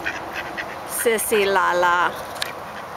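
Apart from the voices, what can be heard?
duck quacking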